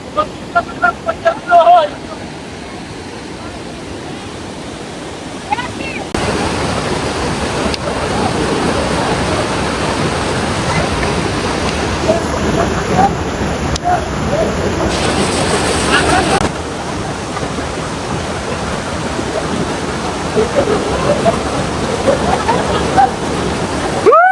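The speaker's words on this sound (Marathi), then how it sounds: "तर काय नदी बघा कशी जोरात वाहते." A river rushing strongly near Kalpeshwar and Joshimath in the Himalayas, a loud steady roar of fast water close by, continuous throughout after a few sharp knocks at the start.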